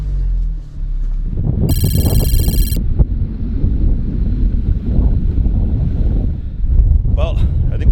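Strong, steady wind at 2100 m elevation on an icy mountain slope roars and buffets the microphone throughout, with a brief high electronic tone partway through.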